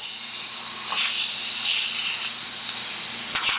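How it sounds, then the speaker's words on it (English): Seasoned meat searing in a super hot oiled pan for a pot roast, a loud, steady hiss and sizzle filling the whole moment with small crackling surges. "Then to a super hot pan, we're gonna go ahead and put this guy in."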